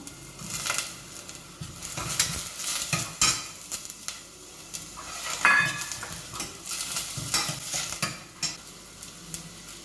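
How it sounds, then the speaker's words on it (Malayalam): Onion frying in a pan of butter and oil for pumpkin soup, with a steady sizzle and repeated scraping stirs close by throughout, without any talk. "വെണ്ണയാണിത് ഇന്ന് കിട്ടിയ വെണ്ണ കുറച്ചിട്ടു എണ്ണ ഒന്ന് ഉരുളട്ടെ സവാള ഇടാം"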